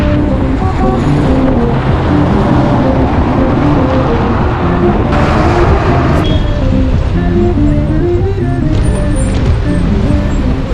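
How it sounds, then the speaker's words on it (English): Heavy, decades-old trucks rumbling past on a busy Iranian road, a continuous loud roar of engines and tyres with passing vehicles swelling and fading close by. "the massive, often decades-old trucks are fairly intimidating nonetheless"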